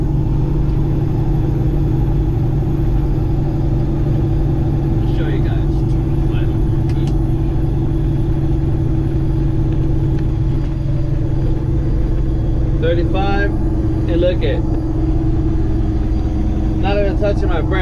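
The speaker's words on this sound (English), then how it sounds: "I'm letting the Jake brakes do his job." A Peterbilt 18-wheeler coasting down a steep grade on its Jake brake gives a steady, loud low engine rumble with an even drone throughout, while brief bursts of talk break in over it.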